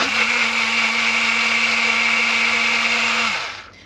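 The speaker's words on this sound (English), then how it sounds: "I just put some cucumber and pear in my little blender." A small blender blending cucumber and pear whirs at a steady high pitch for about three seconds, loud and close, then spins down and stops.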